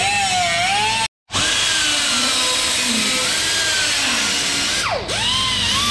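A loud power tool cuts through a metal seat rail from a Jeep Wrangler JL seat, a harsh sustained whine with shifting pitch, broken by a brief silent gap and a quick dip near the end, with no talk.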